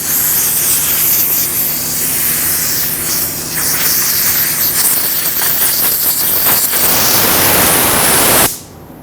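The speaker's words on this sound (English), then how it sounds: "With some safety glasses and compressed air, go ahead and clean this off." Compressed air blasts debris off the fuel tank of a 2005-2021 Nissan Frontier 4.0L V6 during fuel pump replacement, a loud close continuous hiss with slight surges that stops abruptly at the end.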